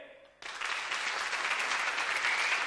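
An event audience at a technology park competition cheers loudly and whistles, a dense, sustained roar of applause and shrill whistles that swells suddenly and holds steady.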